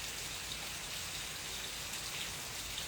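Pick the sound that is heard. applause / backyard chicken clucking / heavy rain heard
heavy rain heard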